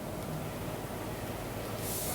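A bass guitar run through a flanger effect, heard as a dense, hissing, jet-like swirl over a low bass rumble at steady moderate loudness for a couple of seconds, with no talking.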